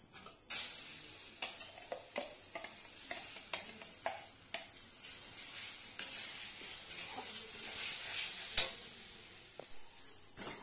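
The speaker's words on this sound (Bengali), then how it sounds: "এবার আমি কড়াইতে 3 থেকে 4 টেবিল চামচ সাদা তেল দিয়েছি, দিয়ে এবার গরম হয়ে গেছে। এবার এই ডালটা দিয়ে দেবো।" Lentil paste frying in hot white oil in a wok, a steady bright sizzle with repeated scraping stir strokes and occasional sharp clicks, close and fairly quiet, with no talking.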